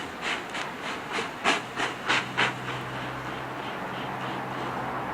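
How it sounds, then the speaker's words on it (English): Water sprayed around the sides of a hot grill while chicken cooks, sending up a series of short steam hisses and sizzles in quick bursts, then a steady softer hiss that lingers. "spray around the sides of your grill because you want to generate steam"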